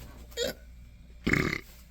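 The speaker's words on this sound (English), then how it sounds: "I just ate, so I got hiccups." A person hiccups after eating, two distinct short bursts about a second apart, close and fairly loud with quiet room noise between them.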